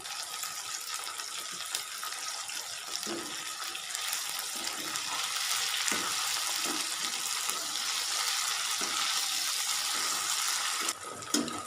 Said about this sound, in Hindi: तो देखिए भिंडी अच्छे से फ्राई हो रही है।